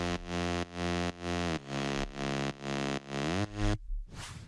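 A distorted synth bass passes through a vox-style effect and an OTT compressor, playing a run of loud, buzzy sustained notes with a vowel-like, chorused sweep. It cuts off into a short burst of noise at the end.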